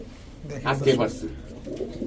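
Giribaz high-flyer pigeons cooing in a short, soft burst, a few low throaty coos close by.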